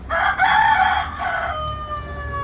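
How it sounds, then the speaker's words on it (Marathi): A rooster crows once, loud and close, a long wavering cock-a-doodle-doo that trails off, with quiet background noise. "कोंबडा बघ आताच बांग द्यायला"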